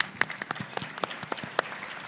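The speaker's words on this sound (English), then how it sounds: "If we can give him a round of applause." An audience at a panel discussion claps, a brief burst of mixed, fairly dense applause that sounds close and sustained throughout.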